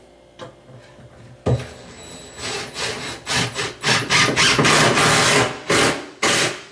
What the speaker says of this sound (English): we're just going to Put our screw in